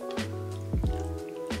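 Mushroom soaking water poured from a container into a cooking vessel, with a few soft drips and splashes at separate moments over a steady low hum.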